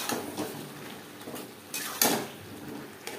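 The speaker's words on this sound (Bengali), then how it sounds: "আলু বেশ ভালো করে মিক্সড করে দেবো।" Potatoes being stirred into spice paste in a pan for a Bengali fish curry: a few sharp metal spoon scrapes and clinks against the pan at irregular intervals, close and fairly quiet.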